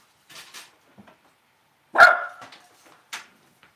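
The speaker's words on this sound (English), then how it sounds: "Who are you barking at?" A single sharp dog bark rings out close by, followed by faint scattered yips and rustles in an otherwise quiet room.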